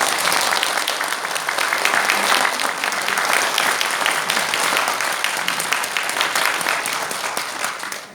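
Audience applause fills a hall at a political seminar at the National Assembly, a dense, sustained round of clapping that holds steady throughout before easing at the very end.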